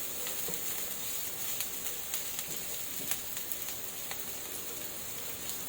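Garlic and onion sautéing in a pan for a stir-fry, giving a faint, even sizzle with scattered light pops throughout.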